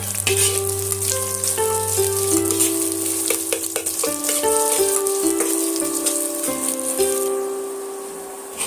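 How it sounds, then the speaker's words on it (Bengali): Onions frying in a pan until reddish-brown, a loud, continuous sizzle with crackling throughout, accompanied by background music and no speech. "পেঁয়াজটা আমি সুন্দর করে লাল লাল করে ভাজা করে নেব"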